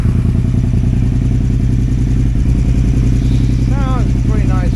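A KTM 950 Adventure S motorcycle with freshly rejetted carburetors idling, a loud steady low rumble with mechanical clatter, close by and unbroken, with faint voices near the end.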